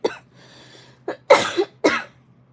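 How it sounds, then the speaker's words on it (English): Several short, harsh coughs from one person with a sore throat and allergies, close to the microphone, with quiet pauses between the bursts. "You're coughing, sorry."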